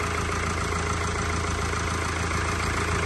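A Mercedes E220d W213 with the OM654 diesel engine idles steadily after starting, a loud, continuous low rumble with an even mechanical patter running through the full stretch, close by and with no voices.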